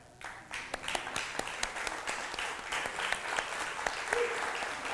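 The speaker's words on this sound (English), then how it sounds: "if you're a veteran, stand and let us applaud you" A church congregation claps for veterans at a Veterans Day service: loud, sharp handclaps rising quickly into sustained applause that carries on to the end.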